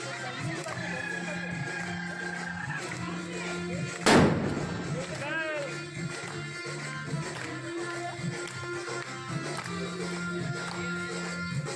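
A big firecracker bomb goes off during street celebrations for the Ayodhya Ram temple consecration: one sharp, loud blast rips through the ongoing crowd chatter and background noise, then fades back into the murmur.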